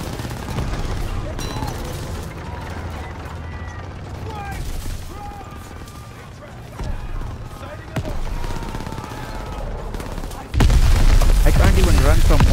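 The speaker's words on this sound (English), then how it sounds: "What are those machine guns, man?" Machine-gun fire during the D-Day landing mission of Call of Duty: WWII, sustained bursts and distant booms throughout a chaotic battle, with voices over the gunfire and a louder surge of shooting near the end.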